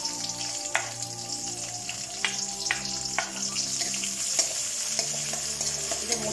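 Chopped onion sizzling in hot oil with cumin seeds, a steady close frying crackle broken by a few sharp stirring clinks and scrapes, with no voices.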